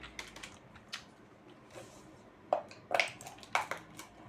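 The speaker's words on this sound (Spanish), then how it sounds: "para con el teclado" Computer keyboard keys clack in short irregular bursts at close range, with a few sharper, louder clicks toward the end and no voices.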